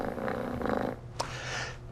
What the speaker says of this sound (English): Now, the purr.